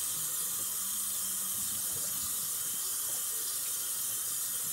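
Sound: water running from a sink faucet

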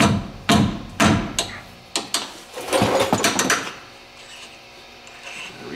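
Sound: hammering on metal

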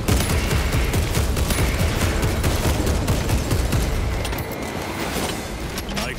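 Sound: gunfire in Warhammer 40k Space Marine 2 video game

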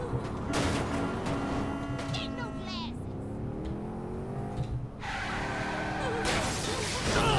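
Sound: car driving and skidding in the video game Saints Row IV

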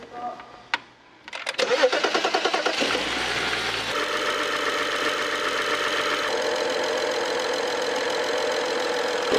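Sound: BMW F07 5 GT engine running

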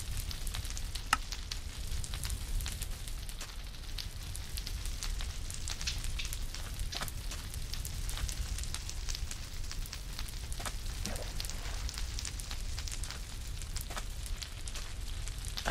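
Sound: bonfire burning in Minecraft video game

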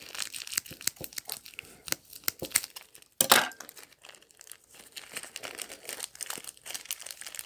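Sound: packaging being torn open while unboxing a Plarail toy

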